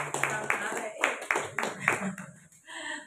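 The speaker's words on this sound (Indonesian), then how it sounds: "Kita beri aplaus buat Pak Anang." A small round of hand clapping for Pak Anang at a primary school gathering, a few irregular claps close by, fading out after a couple of seconds.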